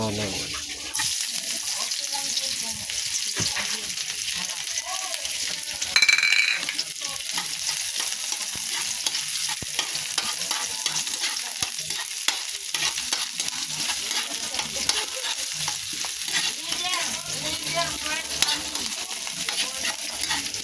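Watermelon rind fries in a pan with a continuous loud sizzle, stirring scrapes and a short bump of clatter partway through, while a voice talks intermittently over the cooking.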